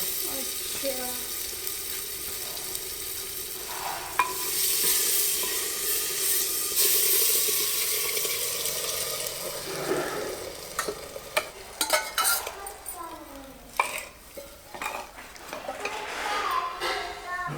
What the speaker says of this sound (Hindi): अब डाल देते हैं इसमें राजमा